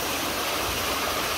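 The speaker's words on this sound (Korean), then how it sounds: "와, 물소리가 너무 시원하다." A mountain stream near a walking path at Unmunsa Temple in Cheongdo, South Korea, rushes steadily, a loud dense wash of flowing water with no breaks or voices.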